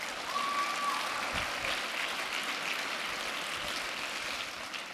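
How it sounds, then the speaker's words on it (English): A studio audience applauds a guest, a fairly soft, even patter of many hands clapping at a moderate distance, continuing steadily before easing slightly at the end. "Give her a round of applause."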